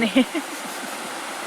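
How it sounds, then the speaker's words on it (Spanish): A small unnamed mountain river near the Monte Tronador refuges rushes steadily as a soft, even wash of water noise, with a brief bit of speech at the very start. "y este es un río que no sabemos el nombre"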